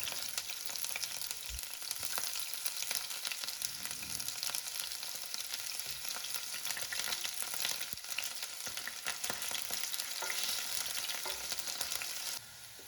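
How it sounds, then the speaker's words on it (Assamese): Onion sizzles and fries in hot oil in a wok, a dense, steady crackling hiss that fills the whole stretch, close and continuous, with no talk over it. "কেৰাহীত তেলখিনি গৰম হোৱাৰ লগে লগে এয়া মই পিঁয়াজ"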